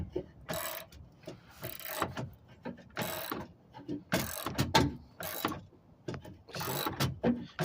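Spare tyre winch under a GMC Canyon pickup being cranked down, repeated ratcheting clicks and mechanical grinding in irregular bursts, close and fairly loud, with no talking.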